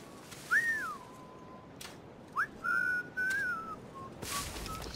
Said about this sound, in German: Der pfeift auch.